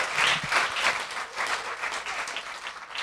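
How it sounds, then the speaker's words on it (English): A conference audience applauds, a dense burst of clapping that swells early and then gradually thins over a few seconds. "round of applause"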